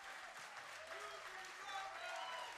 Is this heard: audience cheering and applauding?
yes